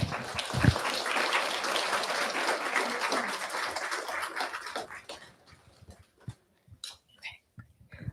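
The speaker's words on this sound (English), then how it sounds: "Give yourselves a round of applause." Students and staff applaud at a school gathering, dense clapping that carries for several seconds, then thins out into a few scattered claps and soft murmurs.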